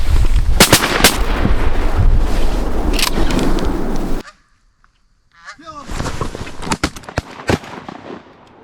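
Shotgun blasts boom in a Pennsylvania field during a goose hunt, several loud close shots amid wind and rustle, then a short silence before more distant shots and voices talking.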